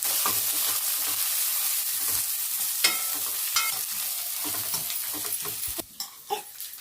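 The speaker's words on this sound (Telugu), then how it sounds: "పేస్ట్ పచ్చి వాసన అంత వరకు బాగా ఫ్రై చేసేసుకోవాలి." A spice paste with turmeric fries and sizzles in a new pan for a mutton trotters curry, with a steady hiss broken by repeated scraping stirs and a few sharper clinks near the end.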